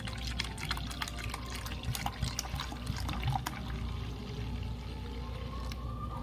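Cold water from the fridge is poured into mango paste for homemade mango juice, a steady trickling splash with sputtering drips that runs for several seconds. No one speaks.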